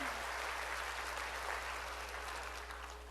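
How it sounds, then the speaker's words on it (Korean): Church congregation applauding together, a soft, even wash of many hands clapping that holds steady for about three seconds and slowly eases, heard fairly faintly with a low hum underneath. "박수로 하나님께 영광을 돌려야 된다."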